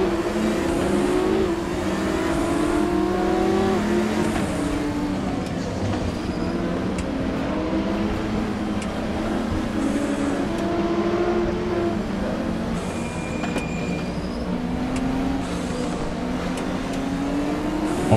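A Nissan Skyline race car in RaceRoom Racing Experience drones steadily throughout, its engine tone rising and falling through gear changes as it races, loud and continuous with no talking.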